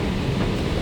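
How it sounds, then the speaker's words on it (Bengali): A London Underground tube train deep below ground gives a brief, loud, steady rumbling roar that fills the short moment without a break. "বেশ নিচে আন্ডারগ্রাউন্ড ট্রেন।"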